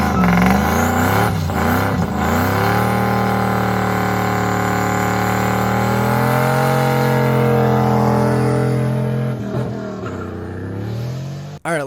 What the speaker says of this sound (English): press the clutch in, grab a gear, bring the revs up, drop the clutch, grab the brake,